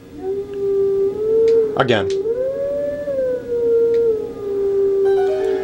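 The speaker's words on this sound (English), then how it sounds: "Howling time." A wolf howls in Zelda: Twilight Princess, one long wavering howl rising and falling over several seconds, loud and close, briefly interrupted by a short spoken word.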